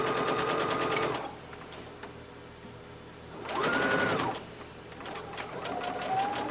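A sewing machine stitching an 18-inch doll dress, running in bursts of rapid, even needle clatter with a pause between runs while the fabric is pivoted.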